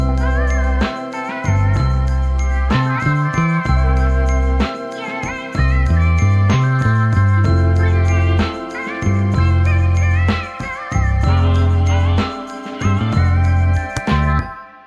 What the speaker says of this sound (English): Added a a little tambourine loop on top.